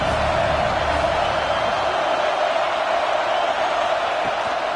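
College football stadium crowd during a third-down red zone play in a Michigan at Georgia game, a steady loud roar of cheering and whooping that fills the whole stretch without a break.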